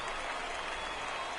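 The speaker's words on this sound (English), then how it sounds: "And the crowd goes wild," Brief burst of loud applause and cheering from a minor-league baseball crowd right after a three-run home run in a San Antonio Missions game against the Midland Rockhounds, dense and continuous.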